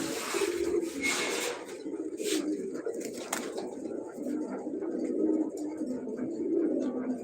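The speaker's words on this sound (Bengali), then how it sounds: "কবুতরগুলো আজকে দেখেন" Soft, throaty cooing from several pigeons repeats close by, with faint fluttering and scattered background sounds.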